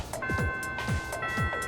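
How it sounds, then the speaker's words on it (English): A chiming school bell in the video game Persona 3 Reload rings several evenly spaced, clear tones over a sustained ringing hum, heard alone. "The first bell has rung."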